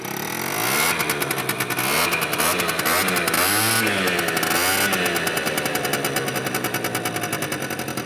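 A Genuine Buddy 50cc scooter engine starts up and runs, with a rapid buzzing two-stroke putter that revs up and down, close and loud, then settles into a steady idle.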